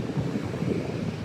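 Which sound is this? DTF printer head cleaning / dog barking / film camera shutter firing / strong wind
strong wind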